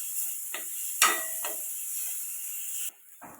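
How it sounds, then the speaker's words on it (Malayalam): Ginger and garlic sauté in a pan, a soft, steady sizzling hiss broken by a few short scraping stirs, heard close up. "ഇതിലോട്ട് ഇഞ്ചി വെളുത്തുള്ളി കൂടി ഇട്ട് കൊടുക്കാം. നല്ലപോലെ ഒന്ന് പച്ചമണം മാറുന്നതിനൊന്ന് വഴറ്റിയെടുക്കാം."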